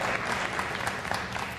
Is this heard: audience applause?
yes